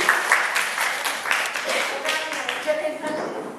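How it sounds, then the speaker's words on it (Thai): An audience at a presentation applauds with scattered, uneven clapping that continues for several seconds, with voices mixed in among the claps. "ขอปรบมือนิดนึงขอปรบมือนิดนึง"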